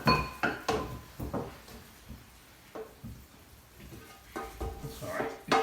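Caramelised Danish baby potatoes are moved from a frying pan into a dish, with repeated clinks and scrapes of utensil against pan and dish, sharp bursts at start and end, and no talking.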